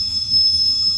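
A train passes at Cajon Pass, heard as a steady high-pitched wheel squeal over a low rumbling rail drone, sustained and fairly loud throughout.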